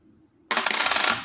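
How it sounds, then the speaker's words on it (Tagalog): Old Philippine coins drop onto a hard surface and ring out with a bright, sustained metallic jingle after a quiet start. "matining yung tunog ng coins na to."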